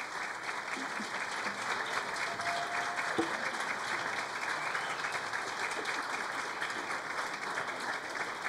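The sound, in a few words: council meeting audience applause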